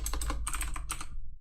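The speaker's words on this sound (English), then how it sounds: "She's trying to say she has a mechanical keyboard with Cherry MX blue switches" Rapid typing on a mechanical keyboard with Cherry MX blue switches, a close, crisp flurry of clicky keystrokes in uneven bursts over a low background hum, stopping abruptly.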